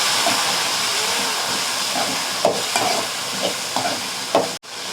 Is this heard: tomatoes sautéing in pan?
yes